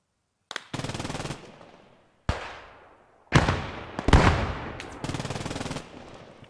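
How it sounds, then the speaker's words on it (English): Machine gun fire in a WWII game battle at Arnhem comes in several sharp bursts of rapid, rattling shots. They are loud and close, separated by short silences and echoing tails, and there is no talk over them. "Where is that MG?"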